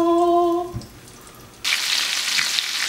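Steady broadband sizzling of chicken frying in a pan begins suddenly after a brief tonal sound and quiet moment, continuing loud and close.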